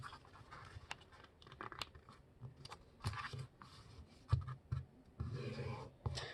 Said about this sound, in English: fold the paper down one more time. Press the paper down hard